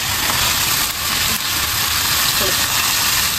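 Tomatoes fry in a pan for prawn momo filling, giving off a dense, steady close sizzle that runs unbroken throughout.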